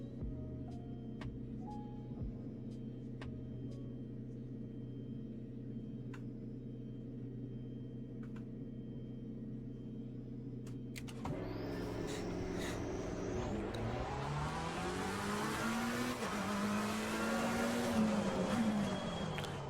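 A McLaren 720S racing around Laguna Seca in a driving game, with a steady engine drone that rises into a loud, climbing rev as the car pulls away. Sharp ticks sit over it.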